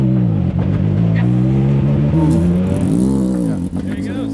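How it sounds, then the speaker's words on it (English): A car launching hard from a standstill, its engine held at high revs with the clutch slipping, a loud sustained drone with shifting pitch as it pulls away, with people talking over it. "he's just gonna smoke the clutch"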